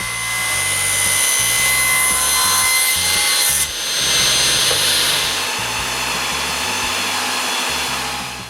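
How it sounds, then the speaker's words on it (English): The wooden base of a dog basket for a bike is cut by saw, with repeated rasping strokes in a steady rhythm, close and fairly loud, with a short pause partway through. "Then I cut both ends of the basket base."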